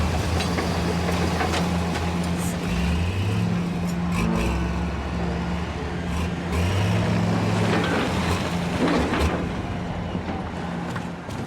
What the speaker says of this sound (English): You know that thing underneath your right foot, they call it the throttle.